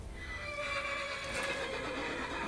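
A horse whinnies in a long, wavering call in the Skyrim video game, mixed with a soft clip-clop of hooves over a constant, moderately quiet game ambience.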